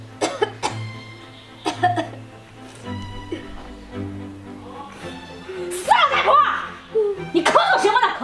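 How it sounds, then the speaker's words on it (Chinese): A sick, elderly mother coughs repeatedly in hoarse bursts indoors, while other voices talk and a short laugh breaks in near the end. "你咳嗽什么呢？"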